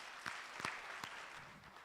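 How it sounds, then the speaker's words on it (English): Faint audience applause at a digital trust conference session, a soft, steady wash of clapping from a distance with a few sharper claps standing out. "please help me with a round of applause"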